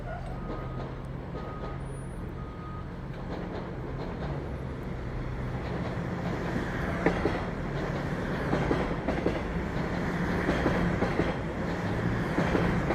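A Toronto subway Line 1 train passes nearby, a steady, loud rumble of wheels on rail with faint clickety-clack joints building gradually toward the end.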